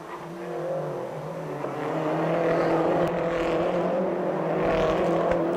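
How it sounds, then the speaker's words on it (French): Peugeot RCZ race cars driving through a chicane at the Pau Grand Prix, a sustained engine drone that swells louder partway through as cars accelerate past, heard at moderate distance without talk. "Mathieu Jaminet, c'est impressionnant les endroits qu'il trouve dans cette chicane"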